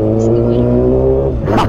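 A motorcycle engine hums steadily at close range, then revs up sharply in a short burst near the end.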